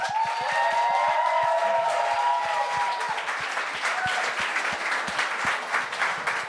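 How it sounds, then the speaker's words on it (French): A comedy show audience breaks into sustained applause, many hands clapping steadily in a crowd, with some scattered cheering mixed in, while tonal sounds carry on in the background. "Faudrait applaudir avec moi"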